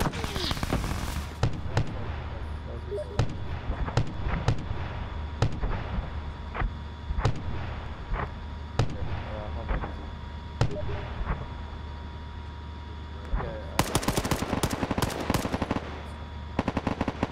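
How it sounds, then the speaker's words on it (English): Heavy weapons fire in the military shooter ArmA 3 during an enemy artillery cannon barrage: sharp booms and bursts repeat irregularly throughout, with a dense rapid-fire volley near the end and voices talking over the combat. "The enemy has deployed artillery cannons"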